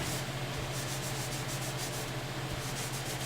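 A guitar fretboard is rubbed firmly across the grain right up to each fret, giving a continuous close scrubbing and rasping sound with a faint low hum underneath.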